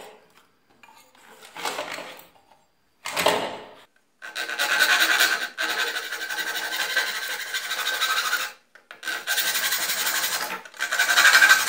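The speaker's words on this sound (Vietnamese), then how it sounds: "các bạn phải dùng cho mình cái lưỡi cưa sắt, chúng ta sẽ cắt mạch nhé" A hacksaw blade cuts through a circuit board from a Sony television, at first in a few short separate strokes, then in long steady rasping passes, close and clear with no voices.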